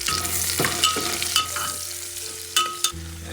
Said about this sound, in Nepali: कुकरमा मासु फ्राई हुँदैछ